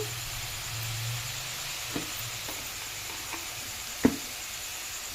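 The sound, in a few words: onion frying in a pan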